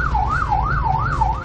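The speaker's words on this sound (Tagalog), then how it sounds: "Isang ambulansya nga ang naipit sa traffic." An ambulance siren wails in a slow, regular up-and-down sweep over the low rumble of stalled traffic on a narrow, flooded road in Pampanga, loud and continuous with no voices.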